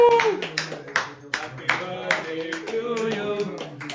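Several people clap in uneven bursts at a birthday celebration, the claps mixed with singing and voices throughout.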